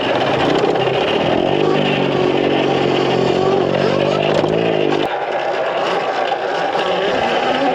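A mini electric off-road bike runs at full throttle, its loud rising motor whine with a rough riding rumble sustained for about five seconds before dropping away, with people's voices mixed in.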